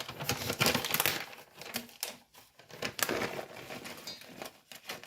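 A granola ingredient package, likely holding slivered almonds, being cut open in a home kitchen, with dense crinkling plastic and crisp snips that come in uneven bursts close by, with no voices.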